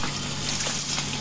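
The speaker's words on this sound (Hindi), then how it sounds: "तो जी इस खेत को पानी लग रहा है और ट्यूबवेल हमने चला दिया है" Water from a running tubewell pours steadily into a farm field, a continuous broadband rush with a faint trickling texture, close and even throughout, with no talk.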